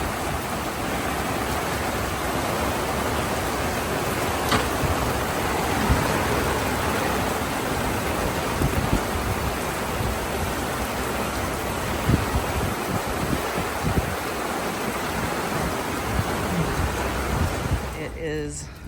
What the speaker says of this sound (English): You're not expecting this. Downpour.